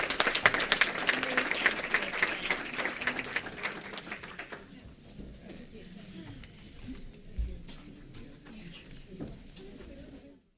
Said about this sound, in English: maybe we can give a round of applause one more time for these brilliant ladies